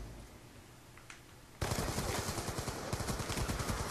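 A turret machine gun in a Black Ops 2 mod opens up after a quiet moment, firing a loud, rapid, sustained stream of shots that continues to the end.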